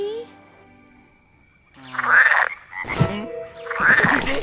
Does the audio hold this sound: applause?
no